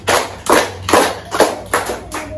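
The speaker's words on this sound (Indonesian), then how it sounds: "Tepuk 5 kali." Five evenly spaced hand claps from a group in a children's concentration exercise, each crisp and close, in a steady rhythm with brief gaps between them.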